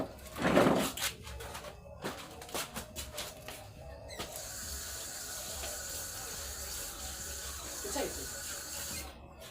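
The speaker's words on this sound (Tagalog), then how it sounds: "hugasan muna natin to" Food is rinsed under a running kitchen tap, with water splashing and clattering at the start, then a steady close stream pouring into the sink. A person speaks briefly early on.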